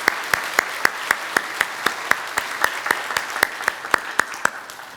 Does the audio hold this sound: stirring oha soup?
no